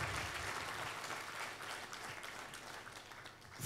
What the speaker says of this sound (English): Let's give another very big hand clap to Richard Byarugaba.